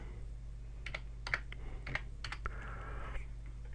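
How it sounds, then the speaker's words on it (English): A computer keyboard in a quiet room, light irregular key taps and clicks over a low steady electrical hum, close and soft, no talk. "let me just click that"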